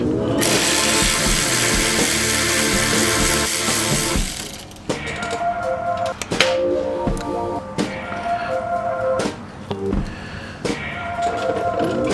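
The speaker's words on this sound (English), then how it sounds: "remove these two 10mm bolts that go through the guide pin and into the bracket" A ratchet backs out 10mm bolts through the caliper guide pins on a Ford F-150 rear brake; a loud, sustained ratcheting buzz runs for four seconds, then breaks into shorter bursts of ratchet clicks with brief pauses.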